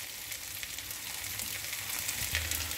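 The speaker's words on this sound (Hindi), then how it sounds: "चावल को हमने तकरीबन 1-2 मिनट भूना है" Rice fries in a pan, a soft, steady sizzle at low level with faint crackles and a small stirring bump near the end, no talk.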